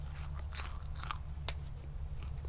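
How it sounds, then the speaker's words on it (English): Crisp crunches from biting and chewing a Brazilian Starfish pepper, a Capsicum baccatum, several sharp bites close to the mic over a steady low hum. "hear that crunch?"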